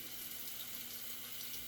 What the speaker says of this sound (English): Sorry that we're hearing the running water noise